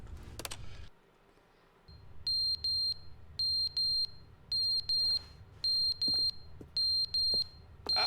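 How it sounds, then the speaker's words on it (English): Beeping alarm in the video game The Stanley Parable, loud paired electronic beeps repeating in an even rhythm after a short quiet gap, with faint background noise. "There's beeping."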